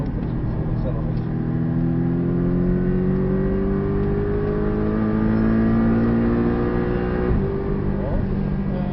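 A Porsche 718 on the Portimão circuit holds a loud, steady engine roar from inside the car, with rising revs through the gears and a brief shift dip near the end.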